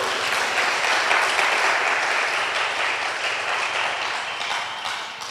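Church congregation applauding the Lord: sustained, dense applause from a large crowd, loud and even throughout, slowly easing off toward the end with no talking over it.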